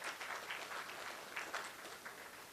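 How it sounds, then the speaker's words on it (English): An audience claps warmly at a climate change summit event honouring university essay competition winners, a steady dense patter of many hands filling the room for a couple of seconds. "Can you give him a clap?"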